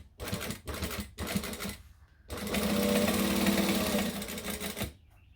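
Sewing machine stitching a seam in bursts, with two short runs, a pause, then a longer steady whirring run that stops abruptly, loud and close.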